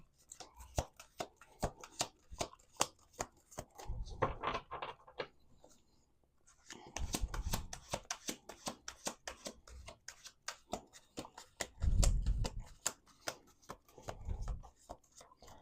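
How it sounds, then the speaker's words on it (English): A deck of tarot cards is riffled and shuffled in bursts of rapid crisp flicks, with a short pause midway and a soft voice murmuring at times nearby. "All right, 8 cards on the table. We'll do 1 more shuffle."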